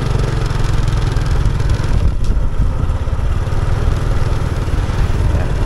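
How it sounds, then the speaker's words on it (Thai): A two-wheel walking tractor engine chugs loudly and steadily nearby, a continuous rattling single-cylinder drone with clattering mechanical noise and no pauses. "รถไถเนาะพี่น้องเฮาเขตนี้เพิ่นจะเข้าในเมืองในชานเพิ่นก็ขี่รถไถแล้วเข้าในเมืองเนาะ"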